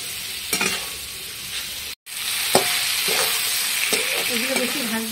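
Vegetables, including sweet potato, sizzle steadily in hot oil in a pan for dal while a spoon stirs and scrapes them, with loud, continuous frying close by and no talking.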